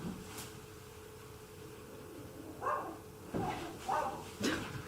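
Dogs bark a few times in the background, faint and distant, short yelps scattered over a quiet hum of room noise.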